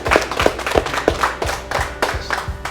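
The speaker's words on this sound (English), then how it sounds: "Let's have a round of applause" Rhythmic hand claps, about four per second, ring out close and fairly loud, with a few hands clapping together in a small group.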